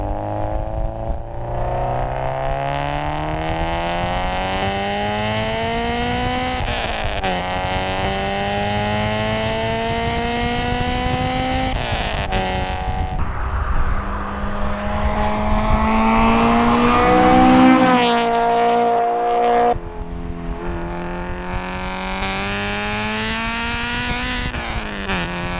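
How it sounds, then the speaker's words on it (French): A Honda Integra Type R with its VTEC engine revs hard toward 9000 rpm through several gears, its loud rising engine note climbing, dropping at each shift and climbing again, close and continuous. "Pas distingué par son couple, mais plutôt par ses montées en régime complètement incroyable, jusqu'à 9000 tours minute"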